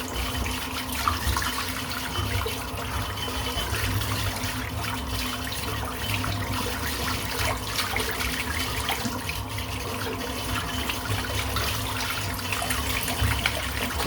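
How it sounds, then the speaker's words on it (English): Running tap water splashing steadily as soap is rinsed from a dense synthetic shaving brush, a continuous close hiss and patter in a sink with no talking. "Right, rinse the brush out."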